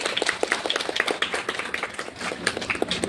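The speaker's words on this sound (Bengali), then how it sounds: "হাততালি।" A group at a yoga and exercise session claps their hands in quick, steady rhythm, with many close, crisp slaps continuing for several seconds.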